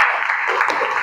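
A school class of children claps their hands together, a brief loud burst of scattered applause indoors.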